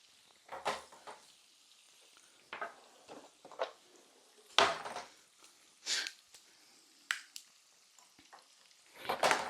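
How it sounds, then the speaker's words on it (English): Shrimp frying in a pan for a crispy shrimp bowl, heard as intermittent bursts of sizzling and stirring or flipping sounds spread across the stretch, with quiet gaps between them and no talking. "All right, so you got your shrimp going."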